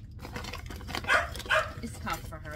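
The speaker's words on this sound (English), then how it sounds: "She is very loud. That's one of my dogs, by the way, in case you didn't realize." A pet dog barks loudly indoors in a kitchen, a few sharp yapping barks spaced about half a second apart, with a person speaking nearby.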